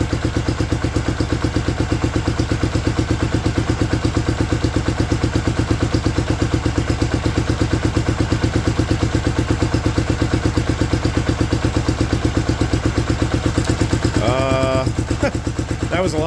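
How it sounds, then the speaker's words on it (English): The small UltiMower lawn mower engine runs at a steady, loud idle, with rapid, even exhaust puffs that continue throughout. A brief rattly flutter comes near the end. "You listen to every puff, and that counts as 2 rotations of the engine."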